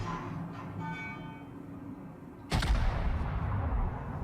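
Warship guns firing in World of Warships, a sudden heavy broadside blast cutting in after a quieter stretch of engine hum and distant rumble, then a loud rolling boom that lingers to the end.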